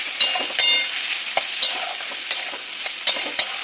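A spoon stirs mushroom, potato and eggplant curry with turmeric frying in a pan, with a steady sizzle broken by repeated scraping clinks against the pan, no talking.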